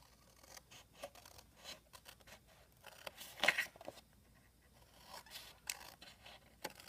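Scissors cut through scored card for a box frame, a series of quiet, scratchy snips and scrapes close by, with one louder cut near the middle.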